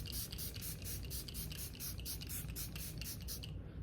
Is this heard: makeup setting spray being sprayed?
yes